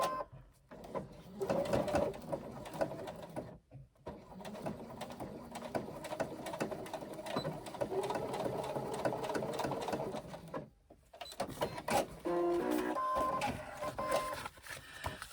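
A sewing machine bastes a 1/8 inch seam, running in rapid close bursts of needle clatter separated by short stops, with a few clicks and squeaks near the end.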